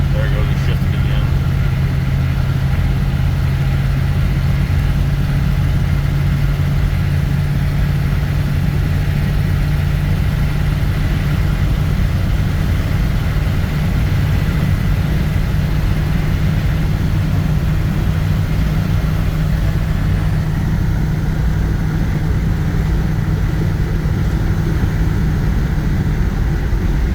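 A 1990 Dodge Ramcharger's engine drones steadily while driving, a loud, continuous low rumble with constant road noise and no let-up throughout.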